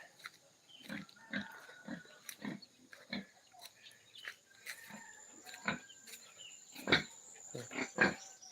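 Pigs kept in a pen beside a traditional Toraja house, raised for customary ceremonies, grunt and squeal in a steady string of short, fairly faint bursts, with a few sharper squeals near the end.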